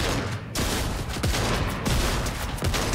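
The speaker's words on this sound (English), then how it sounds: "He's only shooting at me." Rapid bursts of automatic gunfire from a Fortnite match crackle almost nonstop, loud dense volleys with sharp individual shots layered over a busy game background.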